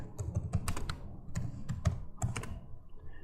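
Computer keyboard keys clatter in short uneven bursts of typing, close and clear, with brief pauses between clusters of keystrokes.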